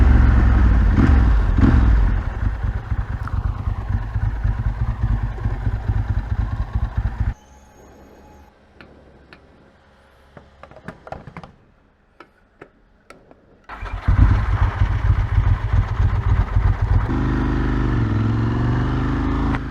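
A 29-year-old Ducati 916 motorcycle engine roars at speed on a country road, loud and steady with a ticking rattle, dropping to a quieter lull in the middle before the revs surge back.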